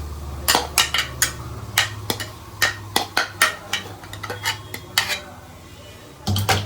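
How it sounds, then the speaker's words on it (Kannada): Cooked rice being stirred into lemon rice in a metal pot, with a steady series of sharp spoon scrapes and clanks against the pot, close and fairly loud, over a low hum and no talk. "ಸೊ ನಾನು ಇದಕ್ಕೆ ಫುಲ್ ರೈಸ್ ಹಾಕಿ ಕಲಸಿ ತೋರಿಸ್ತೀನಿ."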